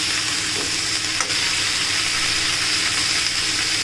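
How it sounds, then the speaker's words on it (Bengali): Onion and tomato frying in hot oil, a steady loud sizzle running throughout with a brief clink near the start. "তেলের মধ্যে আমি ভালো করে পেঁয়াজ আর টমেটোটাকে আমি ভাজবো"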